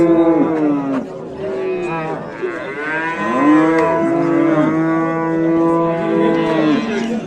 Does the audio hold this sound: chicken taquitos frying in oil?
no